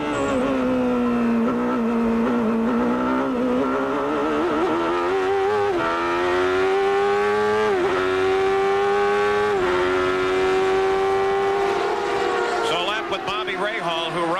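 IndyCar race car engines at the 1993 Pioneer Electronics 200 roar steadily throughout, pitch climbing and dropping through gear changes, with a loud, continuous high-revving drone.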